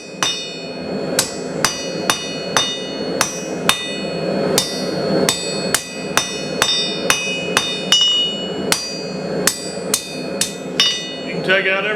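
A blacksmith hammers hot iron on an anvil while forging a trammel hook, striking about twenty sharp, ringing blows at an uneven working pace, loud and close.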